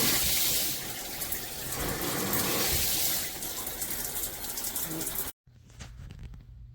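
A Jcrob 12-inch rain shower head runs with a loud, steady rushing spray that cuts off abruptly near the end, then a softer trickle continues.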